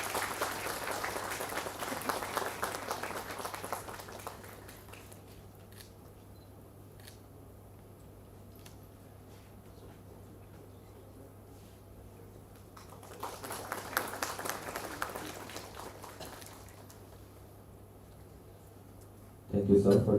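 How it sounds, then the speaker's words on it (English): Crowd applause at a university student induction programme, a burst of clapping that fades, then a second swell of clapping later, moderately quiet, followed by a brief louder sound at the end. "Can you have a huge round of applause"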